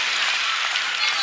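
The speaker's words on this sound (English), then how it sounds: "Student section cheering on their team here at White Auditorium." High school basketball student section cheering at White Auditorium, a dense wash of crowd noise and clapping that lasts the whole short moment, loud and close.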